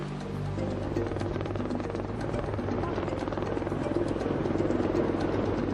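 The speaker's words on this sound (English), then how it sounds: "A helicopter is the only option to get him to a hospital." A rescue helicopter comes in to land in the Himalaya, its rotor chop loud and steady throughout with a dense low throb and broadband wash.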